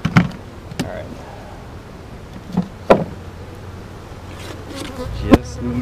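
Close buzzing from a honey bee colony in a hive, punctuated by a few sharp knocks and bumps, with faint murmuring in the background.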